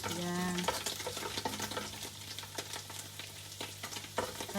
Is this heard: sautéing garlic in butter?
yes